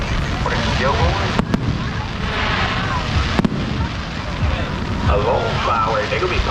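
Fourth of July fireworks show, with scattered sharp pops and distant bursts over crowd chatter and voices talking nearby throughout.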